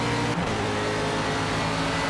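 An Aston Martin GTE race car in Project Cars at Mojave Cougar Ridge, its engine droning steadily under partial throttle, a continuous close, loud mechanical tone that dips briefly then holds.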